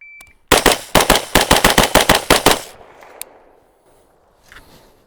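Rapid pistol gunshots on a shooting range during a drill, a close, loud string of about a dozen sharp cracks in quick succession, then quiet with faint handling noise.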